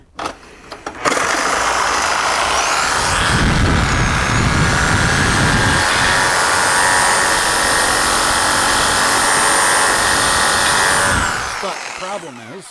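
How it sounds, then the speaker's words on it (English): A power tool grinds steadily through a bolt on the battery tray of a 2001 EZGO TXT 36-volt electric golf cart, a loud sustained high-pitched cutting whine lasting about ten seconds before winding down. "This cutting this bolt off is going to allow us to get the new frame installed"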